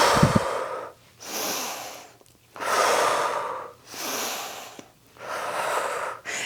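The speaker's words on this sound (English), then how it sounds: "When you reach, you inhale." Slow, deep breaths during a rotating banded reach-and-row exercise, each long inhale and exhale rising and falling in a steady rhythm, close and alone with no talking.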